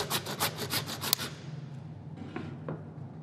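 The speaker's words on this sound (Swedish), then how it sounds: "sågar igenom korsbenet för att lättare kunna skära ut benet" A saw rasps through pig sacrum bone during rough butchery of a pork carcass, with about seven quick rhythmic strokes close up followed by fainter scraping and a couple of light knocks.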